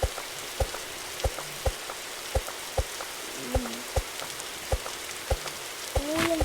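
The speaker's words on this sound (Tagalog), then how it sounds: "Oo, ulan pa." Rain falls steadily in the survival game 99 Nights in the Forest, a soft constant patter with regular louder drips landing about every half second, heard alone without speech.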